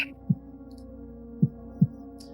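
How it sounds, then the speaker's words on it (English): A heartbeat sound effect: low, muffled thumps over a quiet steady hum, one isolated beat followed by a closer pair, with nothing else around them. "for a moment, you can hear your heartbeat"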